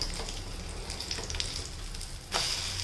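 An egg cutlet fries in a pan after being flipped, giving a steady close sizzle throughout with a brief louder crackle near the end, and no voices.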